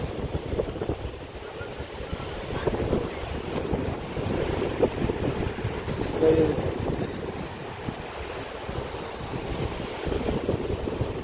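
Sea waves wash onto the shore on a clean coast near Guhagar, a continuous soft surf roar mixed with gusting wind buffeting the microphone.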